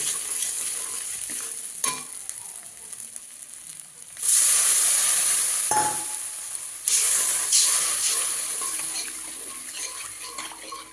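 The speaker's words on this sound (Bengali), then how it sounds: "এবার জল দিয়ে দেবো।" Spice paste frying for a khoira fish curry, with a quiet stirring scrape early on, then water poured in twice, each time bringing a loud, bright hissing rush that settles into steady bubbling.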